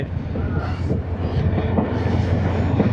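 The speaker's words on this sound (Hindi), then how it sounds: "यहाँ से ट्रेन गुज़र रही है।" A Dera Ghazi Khan shuttle train passes nearby on the ML2 line, a continuous loud rumble of wheels and carriages with rhythmic clattering throughout.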